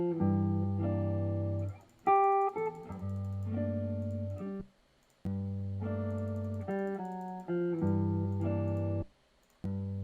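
Music track slowed down with Logic's time and pitch machine, heard as short phrases of mellow, tonal notes and chords with brief pauses between them at a moderate level.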